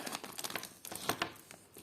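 A small plastic packet from a parcel of vintage jewellery crinkles and rustles in quick, close, faint handling sounds.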